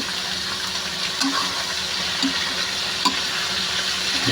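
Estofado ingredients sauté in a pan with a steady, close frying hiss, broken by a few brief stirring scrapes and clinks.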